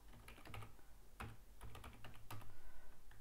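An email address is typed on a computer keyboard: quiet, uneven runs of light key clicks close by, with a few louder taps and no voice.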